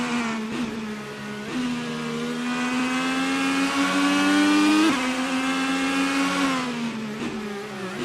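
AI-driven race cars in a racing video game, a steady high-pitched engine whine holding pitch with slight rises and dips, continuous and moderately loud throughout.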